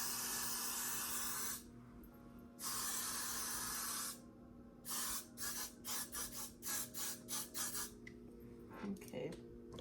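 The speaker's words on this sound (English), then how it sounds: "we might have to use that freeze dry spray." Freeze-style hair spray misted onto frizzy hair in two long continuous hissing blasts, followed by a rapid series of short spurts, close and fairly loud with no talking.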